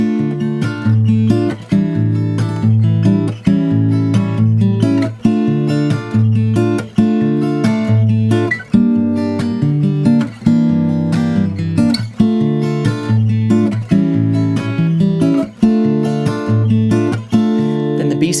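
Acoustic guitar strummed close and loud, playing the chord progression of a song in a steady, repeating rhythm with regular accented strokes throughout, no voices.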